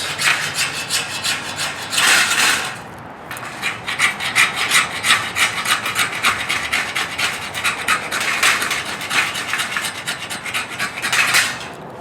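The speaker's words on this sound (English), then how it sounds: "I'm gonna use the spine to scrape up a bunch of fuzz" The spine of a Redhead fixed-blade knife scrapes resinous wood into fuzz, a loud rasping rub in quick repeated strokes, close up, with a brief pause near the start.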